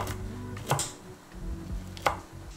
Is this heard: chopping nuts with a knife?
yes